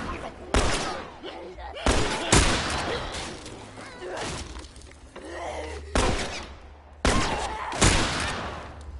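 Gunfire in The Last of Us Part 1, with several sharp shots spaced through the stretch, some close together, heard over a game soundscape with talk in between.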